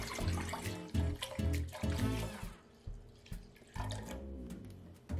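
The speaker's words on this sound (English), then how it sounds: "So we add, like I said, the plant-based milk to a pot." Plant-based milk is poured into a cooking pot in uneven gushes and splashes, close and fairly loud, with brief pauses between pours.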